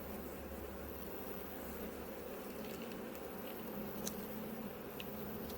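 Bees and wasps buzz at an apiary in a faint, steady outdoor drone, with a few soft ticks and taps over the continuous hum.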